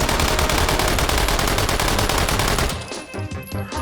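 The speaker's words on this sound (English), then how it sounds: "If you always wanted to fire an Uzi and figured it doesn't have enough rounds in the mag" Uzi with a drum magazine firing in the VR game H3VR, a loud sustained burst of rapid automatic gunfire for nearly three seconds, then ending abruptly into quieter mechanical clatter.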